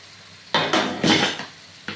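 A lid is lifted off a cooking pot of bottle gourd simmering with prawn heads, giving a few close, sharp metallic clanks and scrapes in quick succession, then quiet.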